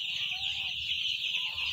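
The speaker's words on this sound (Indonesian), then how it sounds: "ayam" Dense clucking and chirping from a flock of young five-day-old chicks in a poultry shed, steady and continuous at moderate level with no talk over it.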